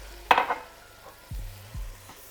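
Rice gets stirred into boiling wine in a pan over medium-high heat, a sharp scraping sizzle early on followed by softer bubbling and a couple of low knocks.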